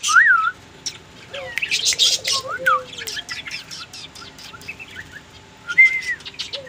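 A hand-tame pet red-vented bulbul gives a string of bright chirps, short whistles and tweets at close range, varied and intermittent, with a soft low background hum.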